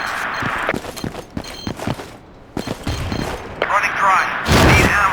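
Rapid bursts of gunfire crack and rattle in Battlefield 2 combat, with a heavy grenade blast booming near the end among scattered thuds and footsteps.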